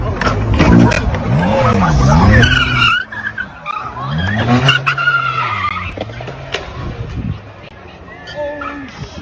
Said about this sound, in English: Take a look at a Can-Am in a skate park.